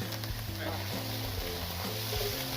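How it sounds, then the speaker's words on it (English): Chicken frying quickly in a pan for fried rice, a continuous close sizzle with faint stirring sounds and a voice murmuring in the background. "the chicken is cooking rather quickly, as planned"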